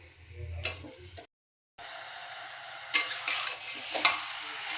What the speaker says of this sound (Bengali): আমি এবার এর মধ্যে চিকেনগুলোকে দিয়ে দিচ্ছি। চিকেনটা দিয়ে কষাবো ভালো করে।